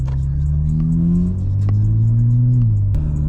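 A car engine revs hard and pulls, a loud, close, steady rumble with rising pitch that climbs in two surges before dropping off near the end, with no talk over it.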